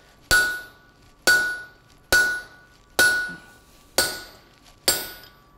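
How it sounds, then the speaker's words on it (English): A hammer strikes a punch into cold steel during blacksmith forging, six sharp ringing metallic blows close by, evenly spaced about a second apart, each decaying quickly. "And drive my punch into it."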